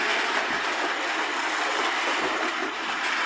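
A Tri-ang OO gauge model train runs on its track, a steady even rolling hiss and whir with faint rhythmic clicks, continuous throughout.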